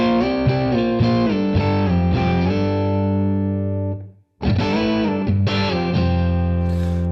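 Electric guitar with effects playing a chord, close and loud: several rhythmic strums and embellishments ringing with sustain, a brief silent break, then more strummed chords, with no talk.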